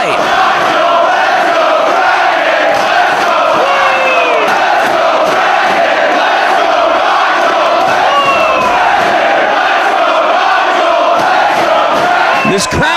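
A packed indoor wrestling arena crowd at an ROH show roars and cheers continuously, a dense, loud wall of voices with shouts and whoops rising over it, steady from start to finish.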